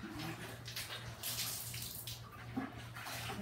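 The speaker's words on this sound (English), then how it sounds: "needs a lot of water to get that soap off" Water running steadily to rinse soap off a fireplace being cleaned with bleach, dish soap and salt, a continuous splashing gush with a low hum beneath, fairly quiet and close, no voices.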